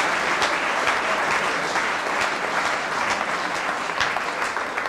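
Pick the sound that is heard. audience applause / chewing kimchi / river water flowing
audience applause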